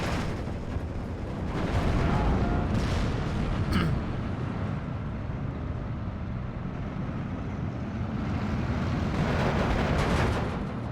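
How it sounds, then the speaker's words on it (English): Bombing run explosions in Steel Division 2 form a dense, continuous rumble of blasts and heavy booms that swell and fade, loud and broadband, with no one speaking. "A nice bombing run too."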